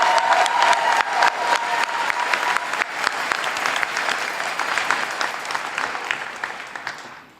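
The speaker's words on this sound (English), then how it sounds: "just a round of applause for our wonderful orator," Loud, dense applause from a graduation ceremony audience for the student orator, opening strong with some sharp individual claps, then gradually thinning and fading out over several seconds.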